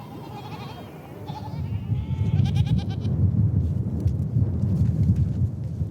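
Goats and sheep bleat repeatedly at springs in the Gobi over a low rumbling background, several animals calling close by in an uneven chorus.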